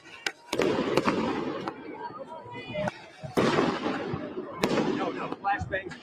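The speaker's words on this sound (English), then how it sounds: "No, flashbangs. It's being fired over." Police flashbangs fired over protesters during a campus encampment clearance in Los Angeles, several loud sharp blasts followed by booming echoes, mixed with crowd noise and a voice speaking.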